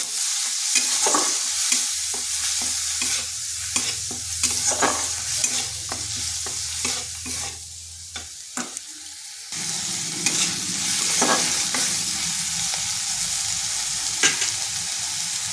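Ginger, garlic and onion paste with turmeric frying in oil, giving a steady close sizzle broken by frequent scrapes of a stirring spoon. A short dip in the sizzle comes partway through, then it carries on just as loud.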